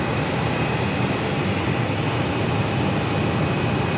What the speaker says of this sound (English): SkyWest CRJ